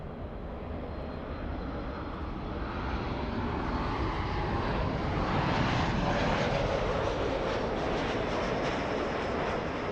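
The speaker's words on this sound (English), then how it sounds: "Lufthansa 456 flying in from Frankfurt. That's a 747." A Lufthansa Boeing 747 airliner arriving from Frankfurt at LAX produces a loud, steady jet roar that swells slightly and holds for the whole stretch, with no voices over it.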